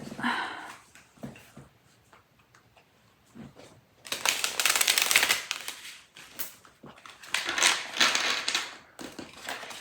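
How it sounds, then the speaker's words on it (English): Tarot cards being shuffled in quick riffling bursts, two long loud flurries in the second half after quieter scattered taps and handling sounds. "let's shuffle it a little bit more just for good measure."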